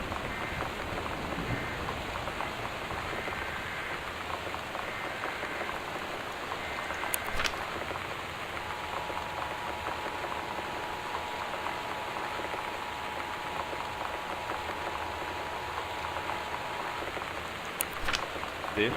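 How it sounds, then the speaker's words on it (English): Heavy rain pours down in the Gone Home video game during a storm, a dense and steady hiss and patter that holds evenly throughout, with a faint tone running beneath it. "winds and torrential rain conditions affecting the following counties"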